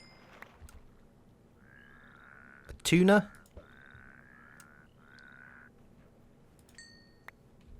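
A toad croaks in the Minecraft modpack FTB Regrowth, giving one short, loud throaty croak in the middle, with softer game sounds around it and a brief spoken question from a voice.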